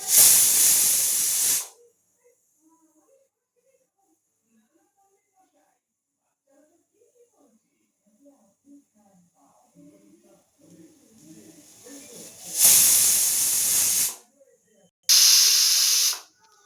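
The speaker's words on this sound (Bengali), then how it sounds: "এবারে এখানে 8-9টা সিটি মারবো।" A pressure cooker cooking mutton lets off loud, close bursts of hissing steam, one at the start and two more near the end, with quiet talk in the gap between them.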